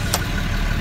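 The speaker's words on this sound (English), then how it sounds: "no one could hear him over his car" Car engine idling at a drive-through window, a steady low rumble close by that fills the background, with no talk over it.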